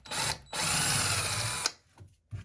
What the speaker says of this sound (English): we're going to go ahead and drill this out.